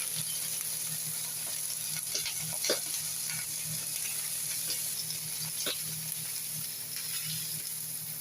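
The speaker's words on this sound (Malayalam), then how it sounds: "തീ കുറച്ച് വെച്ച് വറുത്തെടുക്കണം." Masala-coated pieces frying in coconut oil on a low flame, a constant close sizzle and hiss with small pops and bubbling, steady and even, with a faint hum beneath and no voices.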